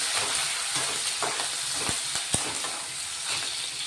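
Continuous close sizzling and spitting of cut green chilies frying in hot oil with garlic tempering, with a few sharp pops crackling through the hiss.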